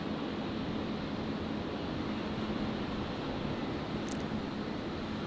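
Nauru Airlines Boeing 737-300 at Brisbane airport at night, a steady broad engine roar holding at an even level throughout, neither building nor fading.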